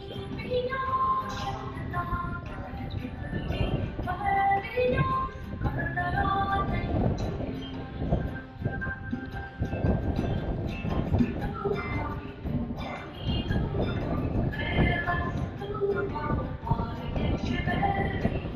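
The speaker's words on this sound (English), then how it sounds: "The wind is pretty powerful here, so I gotta hang on to the camera" Strong wind roars and buffets the microphone continuously at a viewing platform on the Slieve League cliffs, a dense, rushing blast at close range with no pauses.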